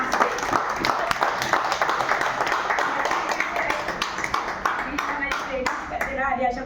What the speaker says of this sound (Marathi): Can you give a big round of applause to me?